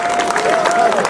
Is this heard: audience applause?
yes